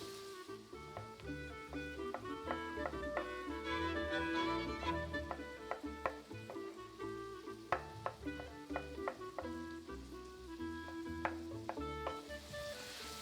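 Meat fries in a pan on the stove, a continuous sizzle broken by frequent bright metallic clinks of stirring, some ringing sharply.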